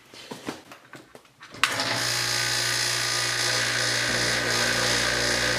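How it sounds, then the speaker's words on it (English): A vacuum pump on a vacuum chamber holding an egg starts up after a few handling clicks, then runs with a loud, steady mechanical whine and hum. "Now let's plug in the vacuum pump."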